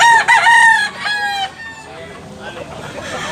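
Loud, close crow of a Claret gamecock rooster from Cebu, a strained cock-a-doodle-doo that trails off into fainter raspy notes with some clucking.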